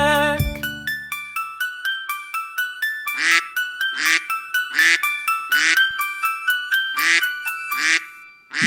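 A cartoon mother duck quacks in a long regular series of bright nasal calls over a playful children's song melody, each quack short and evenly spaced, loud and up front.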